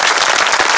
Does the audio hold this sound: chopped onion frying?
no